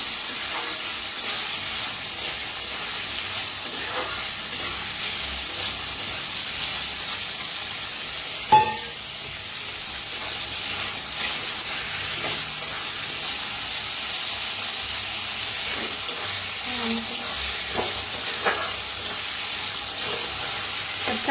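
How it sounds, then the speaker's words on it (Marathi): Potatoes and onion fry in oil, a continuous moderate sizzle with occasional soft scrapes of stirring and one sharp clink partway through. "तेलात पहिलं भाजून घ्यायची कांद्याबरोबर"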